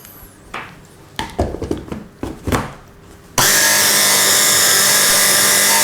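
A food processor whizzes a smoked salmon terrine mixture, a few short clattering pulses followed by a sudden loud, steady motor whir running to the end.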